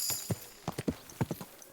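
Horse hooves clip-clop in Kingdom Come Deliverance 2: about eight uneven, close thuds in quick succession, each a short dull knock with a brief click on top, over a quiet background.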